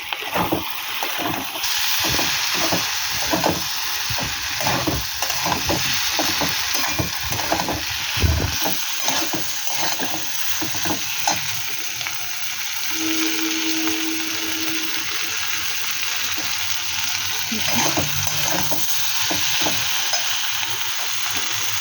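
Dried shutki fish fries in cooked-down spice paste over a high gas flame, a spoon scraping and stirring in quick, steady strokes under a continuous close sizzle.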